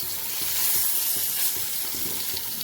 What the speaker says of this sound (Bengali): মাছটা একটু হালকা করে ভেজে নেব